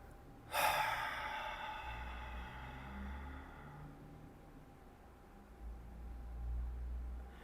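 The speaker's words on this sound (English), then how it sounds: "inhale normally and let out a full exhale" A person takes a normal inhale and then lets out a full, long exhale: one sudden breathy rush of air that tapers into a soft, drawn-out release, close to the mic over a low background hiss, with no talking.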